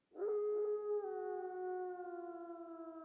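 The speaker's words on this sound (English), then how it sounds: "A howl." A single long, steady howl from the Raging Loop video game, a wolf-like cry that swells in and holds a sustained, slowly falling pitch with clear overtones for about three seconds, alone and fairly loud.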